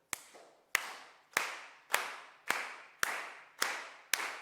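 Audience clapping in unison to a steady beat, eight sharp group claps spaced about half a second apart, loud and close with no talking.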